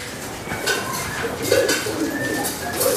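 A tame competition songbird calls with short, clear notes repeated over a steady background hiss, with faint clinking nearby.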